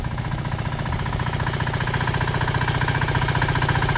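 A wheat reaper machine cuts fallen, lodged wheat in a field, its engine droning steadily and close with a fast rhythmic knocking chatter from the cutter, continuous and slightly building in loudness.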